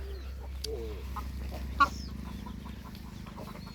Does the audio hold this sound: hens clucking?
yes